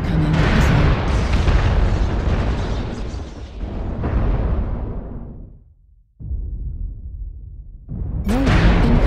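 Missile explosions in the video game MechWarrior Online roar as a long, loud, rumbling series of booms that fades to a near-silent gap, then resumes with low rumble and another heavy blast.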